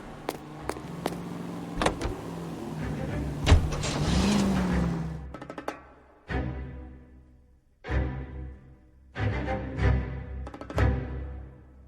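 A car being driven in the video game L.A. Noire: a steady engine hum at first, then a string of sharp mechanical clicks and thuds with short bursts of engine noise between quiet gaps.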